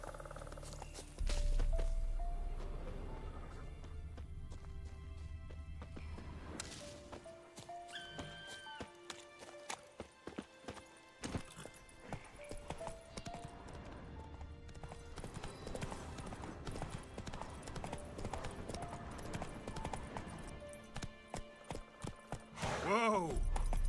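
Hooves of the horse Roach clip-clop steadily at a gallop in The Witcher 3, loud and close, slowing near the end, with someone talking over the rhythm and a brief whinny.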